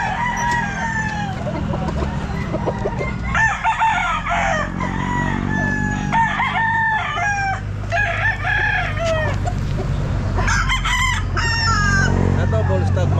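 A bullstag rooster crowing at a busy outdoor pet market, several loud close cock-a-doodle-doo calls with clucking and other fowl around, over a constant crowd murmur.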